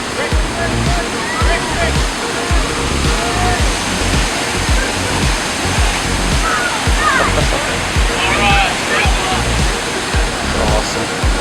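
Niagara Falls pours down in a loud, continuous roaring rush of water close by, with people shouting and talking over the spray.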